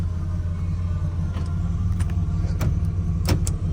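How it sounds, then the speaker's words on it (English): Power windows of a 1989 Pontiac Turbo Firebird Trans Am running over a steady low engine idle, with a few short mechanical clicks and whirs near the end, close and fairly loud. "Power windows work great, nice and strong, not slow."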